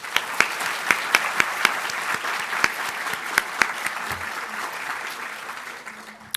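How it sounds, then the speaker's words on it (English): Applause from the audience at a state contest awards ceremony, dense clapping with a few sharp, close individual claps standing out, sustained for several seconds before tapering slightly. "How about one more round of applause?"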